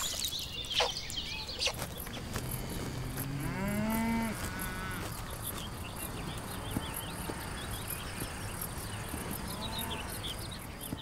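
Cattle moo on a hot sunny day out in the open, with one long, deep, rising low call near the start and fainter calls later. Steady crickets and insects buzz underneath, and a few birds call.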